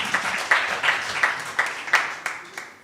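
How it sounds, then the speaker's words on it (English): Scattered audience clapping at a science forum, a thin patter of hands with several sharper claps standing out at a steady pace, moderately near and fading slightly toward the end. "Let's clap for everyone now."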